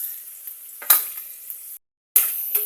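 Tomatoes sizzle and soften in a hot pan, a steady frying hiss with occasional scraping stirs and one sharp burst. The sound cuts out briefly, then resumes at the same level.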